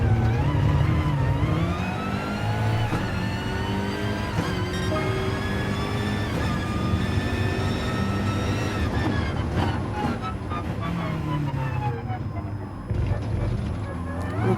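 BMW M6 race car engines in the Gran Turismo video game drone and rise through the gears, a continuous loud engine whine with pitch climbing and dropping, while a voice talks over it.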